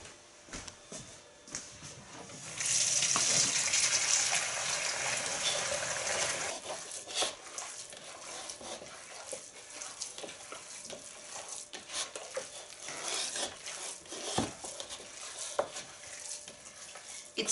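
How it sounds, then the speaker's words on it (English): A kitchen tap runs for a few seconds while hands are washed, a close, steady rush of water that stops abruptly, followed by quieter handling and clatter in a country kitchen. "so I wash hands first."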